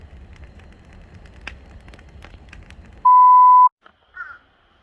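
A crow perched on a pole gives faint, distant caws over quiet low background noise. A loud steady electronic beep tone cuts in partway through.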